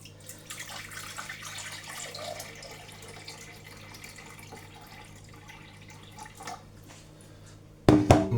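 Distilled water trickles and drips into a container in a thin, steady stream, followed by a brief louder splash and clatter near the end.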